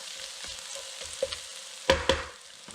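Onions and garlic fry in a pan for Yemeni saltah, a soft sizzle broken by a few light utensil taps and two sharp clanks against the pan near the end.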